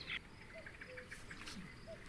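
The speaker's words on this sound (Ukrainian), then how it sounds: "звуки природи" Crickets chirp in a soft, steady rhythm against a quiet evening backdrop by the Horyn river, with no one talking.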